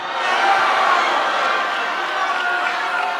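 Crowd of attendees reacting at a congressman's town hall, a steady broad murmur and rumble of many voices filling the room without a break, moderately loud throughout.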